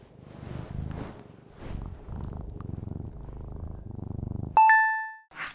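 A cat purrs steadily and close up in a low rhythmic rumble, then a single bright metallic ding rings out near the end.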